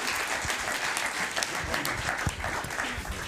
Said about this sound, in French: je vous remercie de les applaudir avant même qu'ils ne vous aient parlé